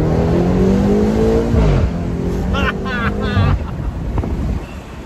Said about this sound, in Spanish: el motor para que la gente escuche.